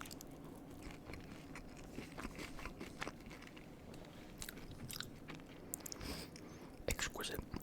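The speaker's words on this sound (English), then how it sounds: "Hear that nice crunch on the pepperoni." Close, quiet crunching and chewing while eating pepperoni pizza, irregular crisp bites and mouth sounds with some soft whispered talk.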